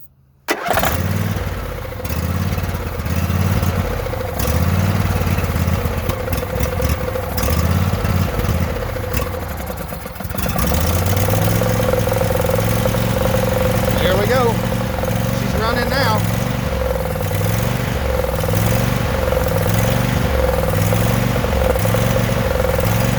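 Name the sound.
engine cranking and starting with a lithium jump starter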